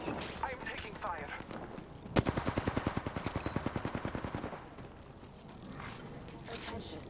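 Rapid automatic gunfire in an Apex Legends match, a fast rhythmic burst of about two seconds from close by, with game chatter and voices around it.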